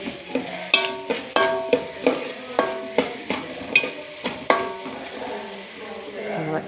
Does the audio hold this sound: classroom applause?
no